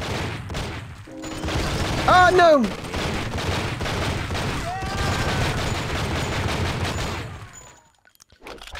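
Gunfire from the video game True Crime: Streets of LA, a loud burst of shots blending into sustained game action and effects, with a brief exclaimed voice over the noise.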